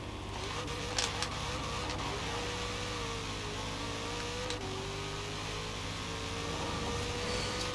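A tuned Camaro ZL1 1LE of over 1000 bhp in the video game Forza Horizon 4 drones steadily as it accelerates from a roll, its engine tone climbing gradually, with a couple of faint clicks early on.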